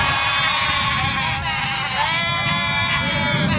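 On a theatre stage, a performer's voice mimics a goat with a long, wavering, nasal bleat held over several seconds, loud and close, amid a noisy background.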